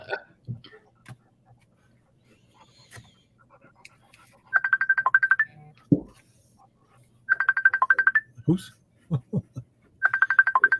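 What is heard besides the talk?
phone ringing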